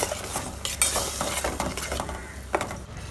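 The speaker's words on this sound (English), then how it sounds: "Now let us add the mixture, the masala which is ready, and fry this for about 2 minutes." Goan masala for oyster xacuti fries in a pan while being stirred, a close sizzle with a spoon scraping and clinking against the pan.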